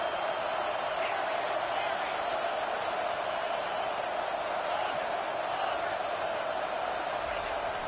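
A football stadium crowd roars in a steady, sustained wash of cheering noise throughout, loud and unbroken with no distinct individual voices standing out.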